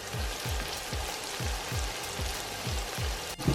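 Chopped, diced onions fry in oil with a steady sizzle and crackle, overlaid by a regular series of soft scraping stirs about every half second, close and moderately loud with no talk.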